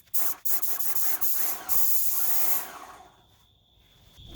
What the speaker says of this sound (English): I was able to get away with only spraying 2 coats to get full coverage